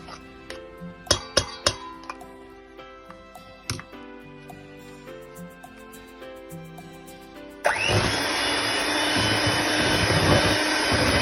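After a few clinks of glass and metal, an electric mixer starts up and runs with a loud, steady whir, beating two cups of butter for cornflakes cookies, with no talking.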